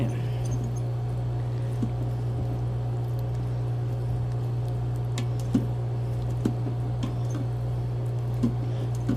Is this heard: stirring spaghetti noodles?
yes